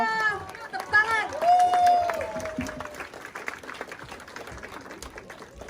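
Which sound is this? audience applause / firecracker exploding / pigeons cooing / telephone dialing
audience applause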